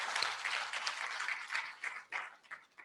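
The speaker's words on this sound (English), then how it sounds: "Can we clap for the First Lady?" An audience claps for the First Lady at an International Women's Day celebration at the Kenya School of Government, with a crisp crowd applause that starts full and thins out into scattered claps toward the end.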